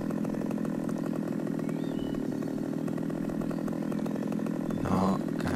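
A chainsaw in a video game cuts into a tree, a loud, continuous, close engine whine that holds steady throughout.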